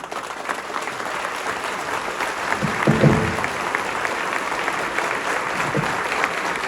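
A church congregation applauds steadily, a dense wash of clapping from many hands that holds at an even level throughout, with a brief louder swell in the middle.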